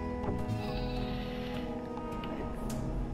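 Sheep bleat quietly in the video game Flockers, a steady low murmur of the flock with faint game ambience underneath throughout.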